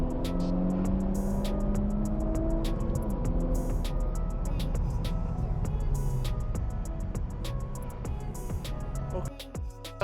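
Volkswagen Scirocco R lapping Spa circuit, engine roaring loud and continuous from inside the car with rising and falling revs and shifting tones, a few sharp clicks near the end.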